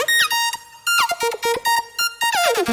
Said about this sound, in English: I dropped an arpeggiator before it, and I made it go a bit crazy